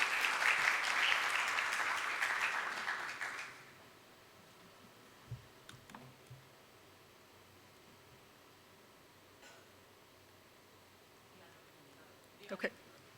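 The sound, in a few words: audience applause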